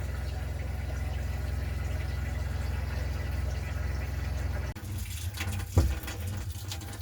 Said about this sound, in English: And so there you have the shower.